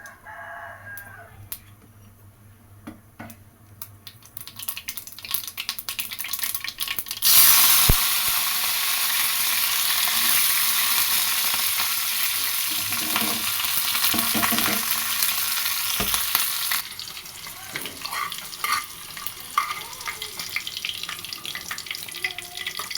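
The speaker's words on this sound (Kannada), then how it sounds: "ಸಾಸಿವೆ ಚಿಟಪಟ ಆದಮೇಲೆ ಒಂದು ಸ್ವಲ್ಪ ಕರಿಬೇವು ಹಾಕಿ ಒಂದು ಸ್ವಲ್ಪ ಹಸಿಮೆಣ್ಸಿನ್ಕಾಯಿ ಕಟ್ ಮಾಡಿ ಹಾಕ್ಕೊಂಡಿದ್ದೆ" Mustard seeds, curry leaves and chopped green chillies are tempered in hot oil, a loud, continuous sizzling crackle that starts abruptly, holds for about ten seconds, then drops away to quieter kitchen sounds.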